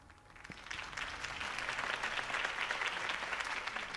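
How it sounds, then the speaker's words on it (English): Crowd applause after a mayoral campaign speech in the Batman Telltale video game, a dense, steady wash of many hands clapping that builds in the first second and holds loud throughout. "could have heard that applause"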